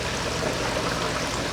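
Water runs into a bottom tray holding seedling cells for germinating peppers, a short, steady pouring splash heard up close with no one talking.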